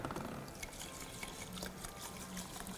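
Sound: water poured into a steamer container

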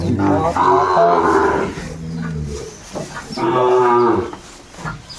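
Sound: cattle mooing

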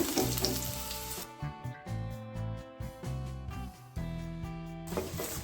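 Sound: garlic and onion frying in hot oil

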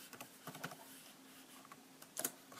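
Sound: typing fastboot commands on a computer keyboard

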